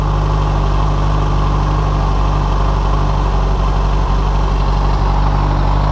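A 2008 Yamaha FZ6 motorcycle engine runs steadily during throttle body synchronization, a loud, close, continuous idle hum with a strong low throb and no speech over it.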